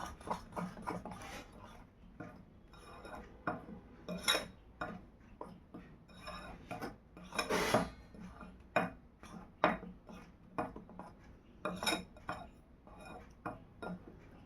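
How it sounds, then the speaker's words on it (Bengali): Dry face pack powders such as turmeric being mixed in a bowl make faint, irregular clinks and scrapes of a utensil against the dish, with no voice. "এগুলোকে খুব ভালো করে শুকনো অবস্থাতে মিশিয়ে নিতে হবে।"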